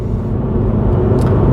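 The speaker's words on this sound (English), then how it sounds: "This is a Mini JCW, it's got 230 brake horsepower. It accelerates really nicely." Mini JCW car with 230 brake horsepower accelerating, a steady close low engine rumble and road drone without talk.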